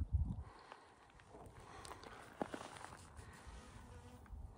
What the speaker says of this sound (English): Oh, we got some bees.